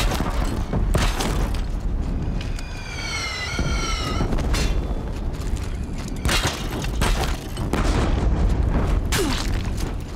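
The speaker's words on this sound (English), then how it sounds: "If the Deathbringers keep firing, this bridge will go." Deathbringer machines in Horizon Zero Dawn fire explosive shots, heavy booms and blasts layered over dense battle noise and a rising mechanical whine, loud and near throughout.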